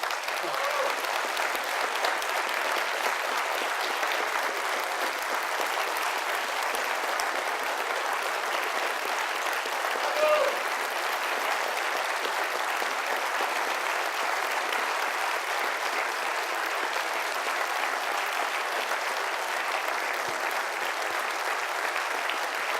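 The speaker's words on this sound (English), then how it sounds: "could stand right now for a round of applause" An audience at a public physics lecture on Gravity Probe B applauds steadily, a dense continuous wash of clapping that holds at an even level for over twenty seconds with no pause.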